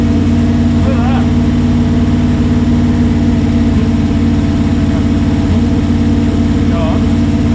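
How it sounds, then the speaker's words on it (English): A 1966 Ford Galaxie's 390 big-block V8, revived after 35 years in storage, idles with a steady, loud, even low rumble that runs without a break from start to finish. "That's a pretty solid idle actually."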